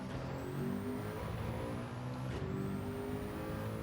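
A race car engine in the video game Gran Turismo 7 drones steadily with two rising high-pitched whines as the revs climb, loud and continuous with no talking.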